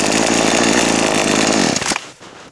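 A chainsaw roars loudly at close range, cutting steadily through a tree in a forest, then the engine drops off abruptly near the end.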